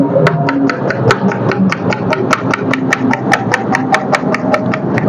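Truck tyres being tapped by hand to check them, producing steady, evenly spaced knocks at about three per second, loud and close over a constant low engine-like rumble.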